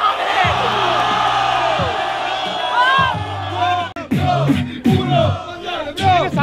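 A crowd at an Argentine freestyle rap battle in a plaza shouts and chants in loud rhythmic bursts, with whoops and cheers rising and falling close by and voices yelling over one another.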